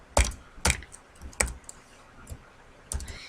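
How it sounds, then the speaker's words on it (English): Several sharp keystrokes on a computer keyboard while code is typed, irregularly spaced bursts with short pauses between them, close and moderately loud with no talking. "I really don't like typing this code"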